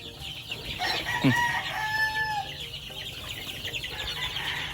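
Chickens at a gamefowl farm, with a rooster crowing clearly nearby early on, followed by softer clucking and background farmyard noise.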